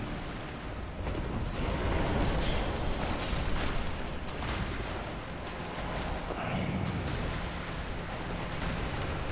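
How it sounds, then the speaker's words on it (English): Nito, a boss in Dark Souls, explodes in a sustained, roaring, rumbling blast that fills the whole stretch with dense, loud noise and a few brief surges. "I think he's exploding."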